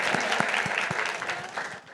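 Studio audience applause on a Brazilian TV literature programme, a dense, steady wash of many hands clapping throughout, fairly near and fading slightly at the end.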